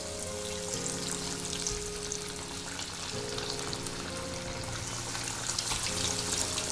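Coated cheesy chicken pops sizzle and crackle steadily in hot oil over a medium flame, a continuous close bubbling fry with a few brighter spits, no voices.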